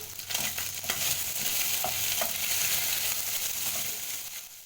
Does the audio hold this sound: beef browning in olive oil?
yes